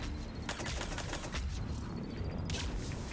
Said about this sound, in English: God damn, that's a chunky shotgun.